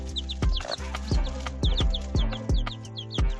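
A hen and chicks squabbling over a worm, with repeated sharp clucks and peeping calls in quick bursts, close and fairly loud, over a steady low hum in the background.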